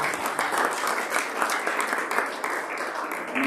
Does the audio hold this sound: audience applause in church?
yes